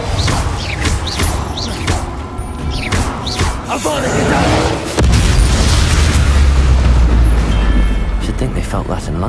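Confringo spell explosions in Hogwarts Legacy go off as loud, close booms and crashes amid combat effects, followed by a heavy, sustained rumbling roar, with voices heard over the action.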